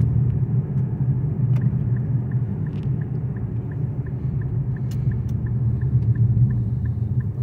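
An Infiniti car drives straight at low speed, giving a steady, even low rumble throughout, with a faint, regular ticking running above it and no one talking.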